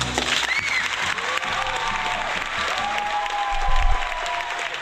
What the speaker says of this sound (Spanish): corresponden los aplausos